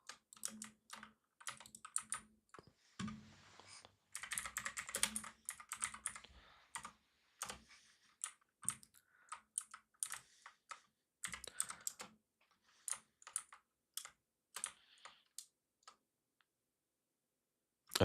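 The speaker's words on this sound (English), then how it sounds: "How loud is my keyboard?" Typing on a computer keyboard, close and crisp, with rapid bursts of clicking keystrokes broken by short pauses, some stretches dense and fast, others sparse single taps.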